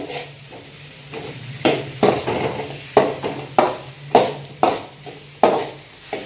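A spoon stirs a mushroom dosa filling with turmeric powder in a pan, making a steady rhythm of scraping strokes about once a second over a soft, constant sizzle.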